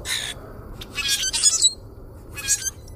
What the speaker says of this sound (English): The sounds of grackles may not be music to our ears